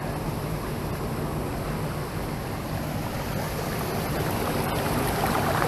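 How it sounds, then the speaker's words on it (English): Water rushes out of a French drain in a steady, loud broadband wash, continuous throughout with no talking. "Look at all that water coming out of there."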